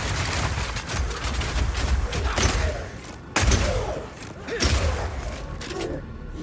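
Rapid Shot crossbow fire and exploding ice crystals in the Path of Exile 2 game: thuds, booms and mechanical clicks in a busy, layered combat mix, with a few sharp crashes and no speech.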